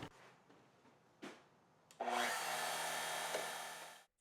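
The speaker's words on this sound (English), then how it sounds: "that's a pretty cut in aluminum" A homemade milling machine cuts into aluminum, rising suddenly into a steady, bright, close whine that holds for about two seconds and then stops, after a few faint knocks and scrapes.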